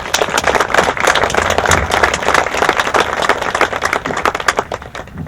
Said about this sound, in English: just give her a round of applause